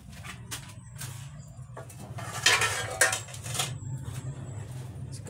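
A pan and metal utensils clink and scrape while banana heart is cooked with sardines, with scattered irregular knocks and rattles, close by, rising louder toward the middle.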